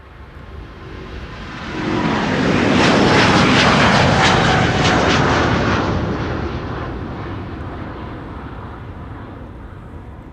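A three-year-old Airbus A350 airliner passes overhead at Schiphol Airport, its jet roar rising to a loud, broad peak before slowly fading away.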